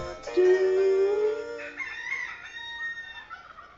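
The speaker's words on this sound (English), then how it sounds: "Did you hear that rooster at the end?" A rooster crows loud and near, one long drawn-out call with a rising tail, fairly clear of other sounds.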